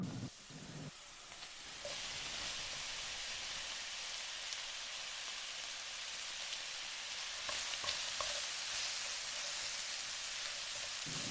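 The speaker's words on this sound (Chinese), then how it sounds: "我们把鸡翅放下去煎一下。" Chicken wings frying in hot oil in a pan, a soft constant crackling sizzle with brief louder spatters, heard alone and fairly quiet.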